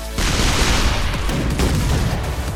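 A sniper shot fires in the artillery video game Shellshock Live: a sudden loud, broadband blast that holds as a dense, rumbling roar for over two seconds.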